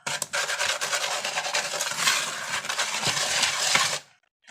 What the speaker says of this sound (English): You want to get a whisk to whisk all the clumps out